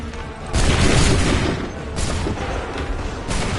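A musket volley booms out in Assassin's Creed 3, a heavy close blast followed by further rolling bursts of gunfire and rumble across the few seconds, with no voices over it.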